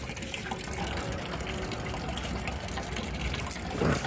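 Oil-cake water poured onto dry garden soil around rose plants, a steady gushing trickle that splashes a little louder near the end.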